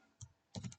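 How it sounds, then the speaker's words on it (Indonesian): A few quiet, close keystrokes on a computer keyboard, one single tap followed by a quick burst of three clicks, with no talking. "Saya ketik di sini"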